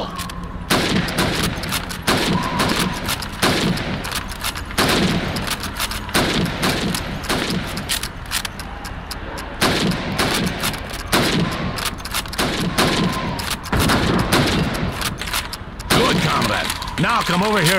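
Rifle fire at helmets in the World War II shooter Call of Duty 2, a rapid series of loud, sharp shots about a second or two apart that continue throughout amid battlefield noise and game voices.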